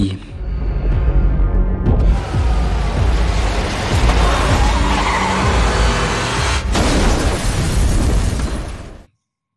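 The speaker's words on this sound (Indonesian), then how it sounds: "Dan benar saja, mobil itu terguling tepat di depan kantor RPD." A truck crashes and rolls over in front of a police station in a Resident Evil film, with loud skidding, a heavy impact and a long grinding, tumbling crash of metal and debris that cuts off abruptly at the end.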